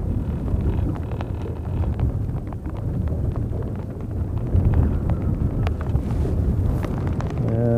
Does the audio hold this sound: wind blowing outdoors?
yes